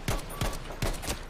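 Gunfire from a player's weapon in an Iwo Jima battle video game, a few sharp shots spaced roughly every 0.4 seconds, close and fairly loud with no talk over them.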